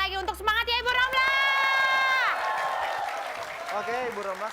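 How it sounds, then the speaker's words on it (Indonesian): Cheers and applause from a TV studio audience rise for contestant Ibu Romla, with crowd shouting and a long sustained whoop swelling over clapping before fading to murmur. "Tepuk tangan sekali lagi untuk semangat ya Ibu Romla."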